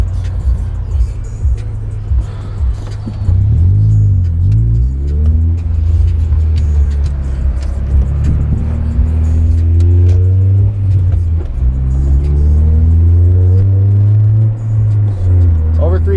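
A Honda Prelude engine, running again after a crank position sensor replacement, revs above 3000 rpm: loud, close engine drone that climbs and falls through several throttle pulls over about sixteen seconds.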